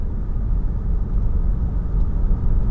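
Deep, steady engine rumble from an Audi S8 cruising on the road, a low droning hum heard from inside the car with no changes in pace.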